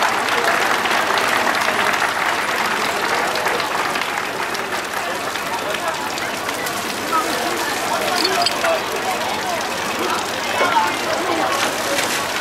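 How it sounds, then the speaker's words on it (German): Sustained, dense applause from a crowd at a historical firefighting demonstration exercise by the Gonzenheim volunteer fire brigade, a steady wash of clapping that stays loud and even throughout without pausing. "Nochmal Applaus für die beteiligten Kameraden,"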